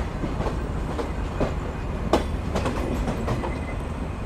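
The Shimanto Express rolls along the rails in Bangladesh, a continuous heavy rumble with scattered clacks and knocks from the wheels, heard steadily from on board with no speech.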